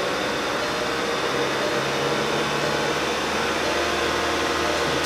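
A 2009 Volkswagen Passat 2.0T engine with a lean condition is held at about 2,000 RPM, giving a constant, even, broadband whir and hum from start to finish with no talking.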